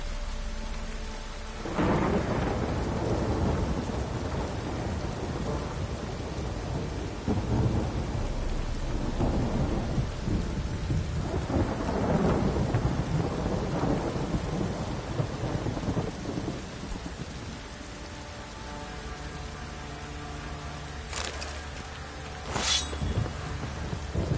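Heavy rain pours steadily in The Witcher 3: Wild Hunt while deep thunder rumbles roll through several times, with a couple of sharp crackling strikes near the end.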